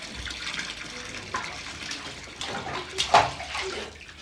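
Hot water, heated by the sun on the roof, runs from a tap into a bathtub at home. It makes a faint, uneven splashing and gushing that swells briefly near the end.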